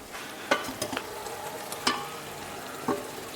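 A spoon stirs and breaks up cooked pasta mixed with cheese in a pan, giving a soft steady sizzle with a few distinct scraping knocks, no talking.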